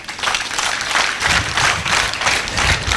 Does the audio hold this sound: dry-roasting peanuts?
no